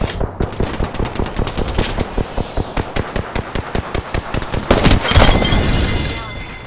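Rapid automatic gunfire in a video game: loud, evenly spaced shots rattling off in a long burst, then a heavier, denser blast of noise that trails away near the end.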